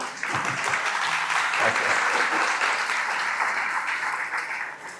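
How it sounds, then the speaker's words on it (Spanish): Church congregation applauding, a dense, steady wash of many hands clapping that fills the room, with a brief spoken word at the start before the applause swells and then tapers slightly at the end. "Un aplauso para ellos, por favor."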